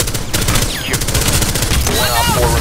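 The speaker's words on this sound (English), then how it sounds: "Ooh, I headshot Mira just as he shoots C4 at me." A dense burst of gunfire and a C4 explosion in the video game Rainbow Six Siege, loud and continuous rapid shots layered with game effects throughout.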